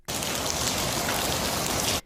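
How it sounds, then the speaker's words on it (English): Heavy rain pouring through a storm that tore the roof off a school gym, a dense, loud, unbroken hiss of falling water lasting about two seconds with no voices. "The storm even ripping off the roof of this school, letting the rain pour into the gym."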